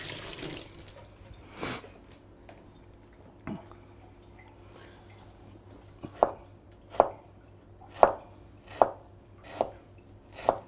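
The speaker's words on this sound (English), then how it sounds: "now you'll cut it into match strips" Tender, freshly peeled ginger is cut with a knife into matchstick strips, a few scattered knocks giving way to six crisp, regular chops on a board, close up and without speech.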